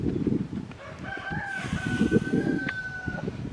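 Farmyard chickens cluck close by while a rooster crows a long drawn-out call in the background, amid shuffling and rustling.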